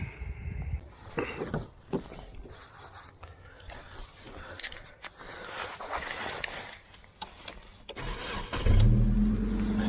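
Clicks and clunks, then near the end an engine cranks and catches, settling into a loud, steady low idle, in a test of a Chinese FCHAO inverter.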